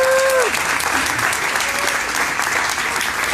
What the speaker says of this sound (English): Give Steve as our city chair a great big round of applause